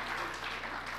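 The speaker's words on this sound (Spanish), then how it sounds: "dale un aplauso al Señor" Applause from a church congregation praising God, a dense steady patter of many hands filling the whole second at moderate level with no break.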